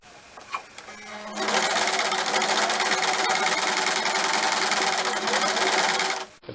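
A sewing machine stitches over pins in the fabric of a nun's wimple, starting with a few clicks before a loud, steady whir of rapid stitching that cuts off abruptly near the end.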